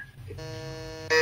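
A short electronic quiz buzzer sounds during a quiz contest, a steady harmonic tone lasting about a second, ending with a louder burst at the finish.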